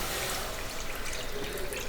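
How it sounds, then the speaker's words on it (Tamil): Water poured steadily from close by into a kadai holding a stand, a continuous splashing rush for steaming besan dhokla. "ஸ்டாண்டு முழுகிற அளவுக்கு கொஞ்சம் தண்ணி விட்டுருங்க."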